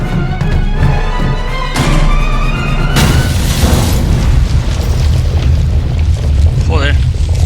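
A heavy bomb explosion booms loudly in The Raven video game, with a sharp burst followed by a rumbling roar and crackling debris that fills the scene for several seconds, mixed with game voices.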